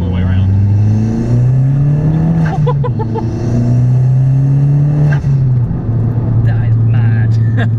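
A 260bhp Abarth 595 Competizione engine revs hard and loud nearby, its pitch climbing and falling through several surges, while people talk over it.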